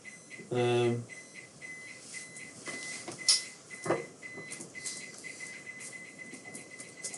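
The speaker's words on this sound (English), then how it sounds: "The shed alarm." A shed alarm goes off with a short, loud buzzing burst, followed by a quiet, high-pitched electronic chirping that repeats at regular intervals, with a few scattered knocks and thumps in the background.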